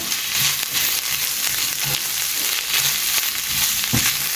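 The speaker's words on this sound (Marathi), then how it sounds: "आनी हे ऑनियन आहा ते मातशें चड फ्राय जालें" Onion and tuna frying in a pan, a loud, close, continuous sizzle with faint scraping stir sounds and a few soft knocks, no talking.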